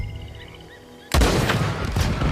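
Sudden loud burst of gunfire at about one second in from Red Dead Redemption 2, cutting in over a quiet game ambience and continuing as dense, rolling shots to the end.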